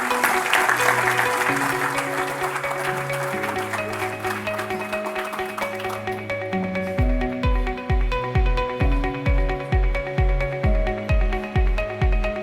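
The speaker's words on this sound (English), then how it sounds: "Please give a round of applause to Professor Sebastião Feyo de Azevedo." Applause from the audience at a World Engineering Day event for a professor, a broad crowd clapping at first, then giving way to loud music with steady rhythmic bass pulses and sustained tones.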